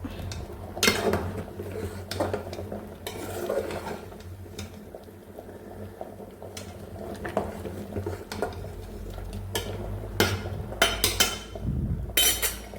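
Salted kappa (tapioca) being stirred in a pan with oil, a spoon clinking and scraping against the metal in irregular bursts over a low sizzle, close and moderately loud, with no talking.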